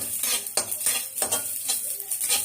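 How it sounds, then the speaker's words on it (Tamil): Garlic cloves roasted in a pan, with repeated scraping and clinking of a utensil against the metal every half second over a soft sizzle, close and without voices. "பூண்டை நம்ம நல்லா வறுத்து எடுத்துக்கலாம்"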